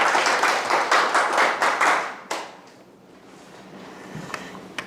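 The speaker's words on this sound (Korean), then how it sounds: "큰 박수 부탁드립니다" A lecture audience at a Confucian studies class applauds a visiting professor, with brisk clapping for a couple of seconds before it stops abruptly and the room falls quiet apart from faint rustling.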